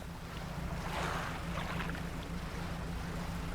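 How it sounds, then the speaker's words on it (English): Soft ocean waves washing around a fishing boat at sea in the video game Dredge, a faint, steady wash of surf and wind with a gentle swell in the middle. "you hear it? The ocean waves."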